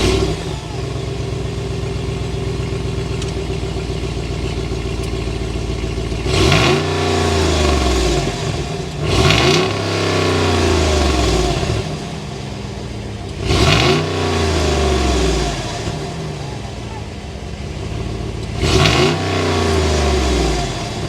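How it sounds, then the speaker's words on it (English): Hemi-powered 6.4 liter V8 in a 2022 Jeep Grand Wagoneer Series 3 idles steadily, then four loud blips of the throttle each flare and fall back, spaced a few seconds apart, with a deep exhaust note and no voices. "start it up so you can hear that exhaust note"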